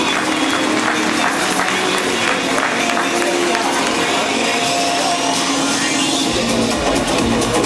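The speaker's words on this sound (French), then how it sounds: "Applaudissements s'il vous plaît pour cet athlète." A crowd at a French IFBB bodybuilding final, in the disability-sport category, applauds an athlete with continuous loud clapping and cheering, roaring and unbroken, with voices mixed in the noise.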